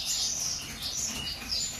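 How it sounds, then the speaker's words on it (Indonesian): A wild-stock white-rumped shama (murai batu Aceh) from the Aceh forest gives bright, high chirping calls in repeated bursts, close and fairly loud, with no voices over it. "Masih asli murai batu Aceh, tanpa kawin silang"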